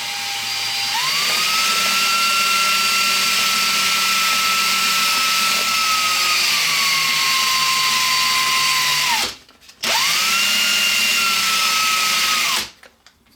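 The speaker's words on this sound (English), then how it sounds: "turning the drill on and sanding the end here to give it a rounded profile" A cordless drill whirs at a high, steady pitch, spinning a wooden dowel against sandpaper with a constant rasping hiss, briefly stops, then spins up again and runs until it cuts off.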